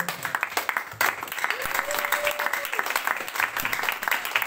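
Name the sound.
congregation applause in church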